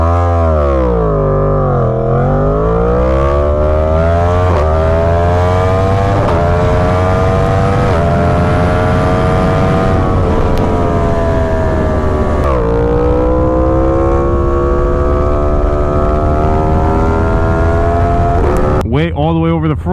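A Yamaha FZ-10/MT-10 motorcycle accelerates hard from about 30 to 100 mph, its engine loud and close as it climbs in pitch through several gear changes, with a short burst of rustle or wind at the end.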